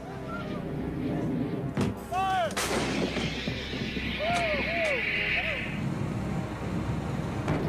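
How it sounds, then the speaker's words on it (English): An M198 155mm howitzer fires in a loud booming blast, with further heavy thuds and honking tones around it. "most effective of Desert Storm's guns was the M198 155mm howitzer"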